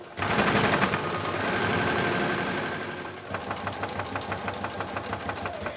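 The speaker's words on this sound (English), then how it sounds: "And I'm just going to keep sewing." A sewing machine stitches a pocket onto a grill apron, a close, loud mechanical drone that eases briefly, then turns into a rhythmic rapid chatter of the needle driving through the fabric.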